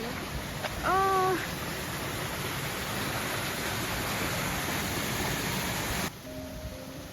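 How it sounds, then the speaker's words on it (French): Waterfall in a Scottish garden, a steady, loud rush of falling water throughout, with a short bird call near the start, and the roar thinning slightly toward the end. "J'ai l'impression qu'il y a une cascade."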